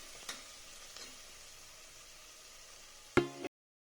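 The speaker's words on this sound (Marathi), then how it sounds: "कांदा थोडासा परतून त्यात लसूण, कढीपत्ता टाकून घेणार" Onion frying in a pan with garlic and curry leaves for masaledar khichdi makes a continuous close sizzle, broken by a few light stirring knocks and a sharp clatter near the end before it cuts off.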